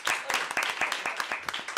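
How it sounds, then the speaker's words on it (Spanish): A brief round of clapping from an audience at a live discussion event, quick scattered claps over about two seconds with voices mixed in. "Bueno, un aplauso."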